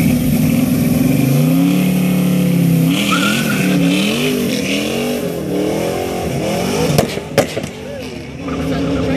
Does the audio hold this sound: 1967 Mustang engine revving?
yes